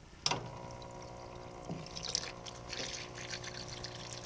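A Harbor Freight 20 gallon parts washer runs and churns a mix of Krud Kutter degreaser and water, giving a steady low pump hum with soft pouring and trickling and a few sharp clanks.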